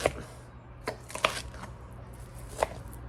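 A knife chops through parsley on a cutting board in a handful of sharp, irregular taps, fairly close and quiet, over a low background hum.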